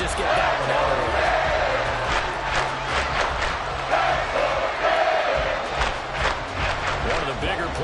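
Stadium crowd in the video game Madden roaring and cheering steadily throughout, a loud continuous wash of voices with rhythmic surges ahead of a big third down, with commentary speech over it.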